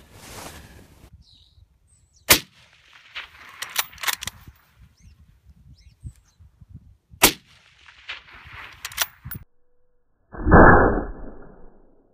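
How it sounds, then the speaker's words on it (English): Two sharp precision rifle shots fired from a bipod ring out several seconds apart outdoors, each a loud crack with a brief echo, among quieter handling clicks and a final rushing burst. "We'll take a couple shots off of this and you can see how positive these things lock in."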